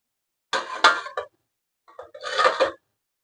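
Boiled taro curry stirred in a pot on a home stove, two short bursts of scraping and clattering against the metal with a pause between them, close and fairly loud.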